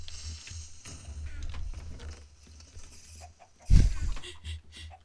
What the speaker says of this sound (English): a bunch of chickens were spawning, but they weren't getting picked up